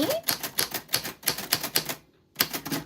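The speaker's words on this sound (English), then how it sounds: "on the typewriter" Rapid typewriter keystrokes clatter in close, steady bursts, pausing briefly before resuming with another flurry of clacks.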